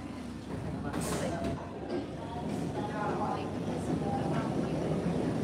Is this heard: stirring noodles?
no